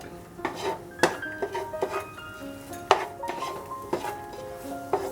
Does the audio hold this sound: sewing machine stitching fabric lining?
no